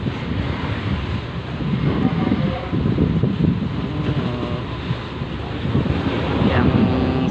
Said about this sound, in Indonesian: Kondisi pelabuhan atau kondisi laut saat ini ombak ya teman-teman